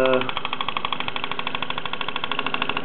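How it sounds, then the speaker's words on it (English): The lamp rattles on a running blue Mamod SW1 steam wagon, a later model with a sight glass, driving in a workshop. It gives a fast, steady, even clatter of rapid ticks, close and continuous. "The lamp's obviously rattling around,"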